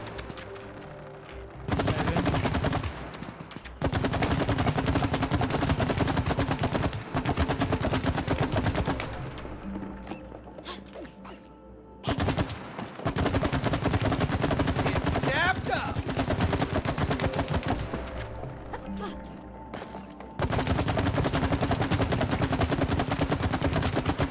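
Gun fire in the video game It Takes Two, long loud stretches of rapid continuous shooting broken by short quiet gaps, with mechanical rattling between bursts.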